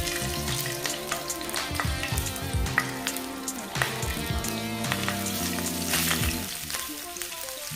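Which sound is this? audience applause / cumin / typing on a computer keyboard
cumin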